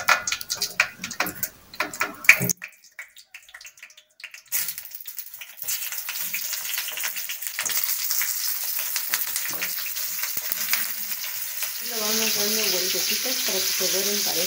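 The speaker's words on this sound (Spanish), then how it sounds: "ahora los voy a freír" Charales fish patties fry in a pan of oil, starting with clattering handling noises, then a quiet pause before a steady moderate sizzle builds and continues to the end.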